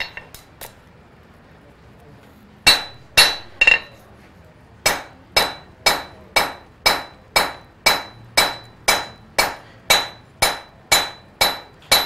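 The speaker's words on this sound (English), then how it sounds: "by hammering on it, I'm either knocking off pieces of the metal" A blacksmith hammering a steel knife blank on an anvil to thin it: a few scattered ringing strikes, then a steady run of evenly spaced, loud metallic blows, each ringing briefly, with no talk.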